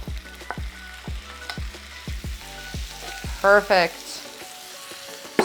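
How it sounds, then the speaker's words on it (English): Shrimp sautéing in a pan with dried herbs, a steady hiss broken by repeated sharp clinks of a utensil against the pan. Someone briefly speaks. "Start sauteing that as soon as you put it in. Get all of that nice, incredible flavor all over the shrimp."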